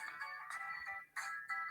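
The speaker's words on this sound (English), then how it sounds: "you're getting a phone call" A phone ringtone plays in repeated bursts of bright, electronic melody, fairly close and clear, with short gaps between the rings and no talking over it.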